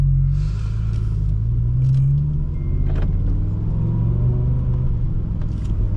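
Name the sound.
2007 BMW M6 V10 engine during test drive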